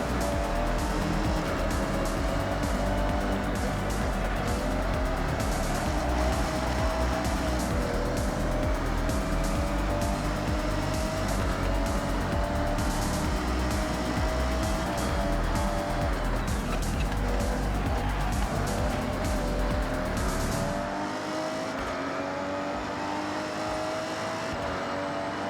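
Race cars in Forza Horizon roar continuously with loud engine drone and tire squeal as the pack races on, the low rumble dropping away near the end.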